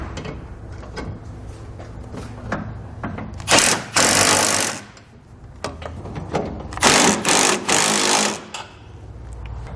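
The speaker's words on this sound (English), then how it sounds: "Now we can tighten down our bail clamp bolts up top here." Bail clamp bolts are driven down on Firestone Ride-Rite air helper springs fitted to a 2017 Nissan Frontier, in two loud, close bursts of rattling power-tool buzzing separated by a quieter garage background.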